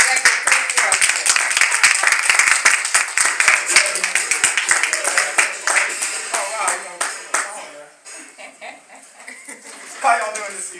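An audience claps for an executive director introduced as the evening's presenter, with brisk, fairly close clapping that is strong at first and thins out, plus a few chuckles and scattered talk near the end.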